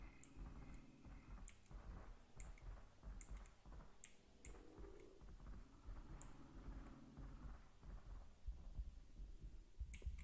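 A player's heartbeat in the video game VHS, a faint, repeating pulse of soft thumps alongside scattered sharp clicks and a low hum, with no speech.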